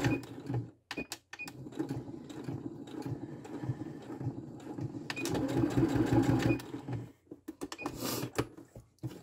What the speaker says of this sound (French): je vais arrêter de coudre rendu ici. Et je vais faire un point de retour aussi pour être sûr que c'est solide.